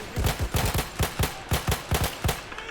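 Rapid gunfire in Battlefield 1 on the Argonne Forest map: about nine sharp, punchy shots in quick uneven bursts, loud and close, with no talking over them.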